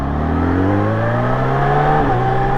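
A Kawasaki Ninja H2 supercharged motorcycle pulls hard under acceleration, its engine note climbing steadily in pitch with a layered mechanical whine, loud and close, then briefly dipping near the end as a gear shifts.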